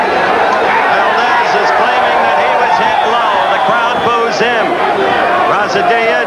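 Crowd at a 1979 WBA super featherweight title boxing bout jeers and boos a fighter, a dense continuous roar of many voices filling the arena beneath steady commentary.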